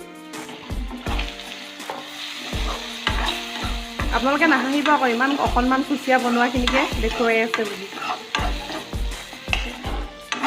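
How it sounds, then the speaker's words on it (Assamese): Mud eel (kuchia) sizzles as it fries in a pan, with repeated scraping strokes of a spatula stirring it in a steady rhythm, while a person talks over the cooking. "কুচিয়াখিনি ভালদৰে ভাজি লোৱা হৈ গৈছে।"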